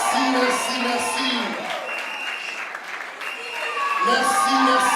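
A crowd at a French-speaking event breaks into sustained applause, the dense clapping running for the full length beneath a voice that keeps talking over it.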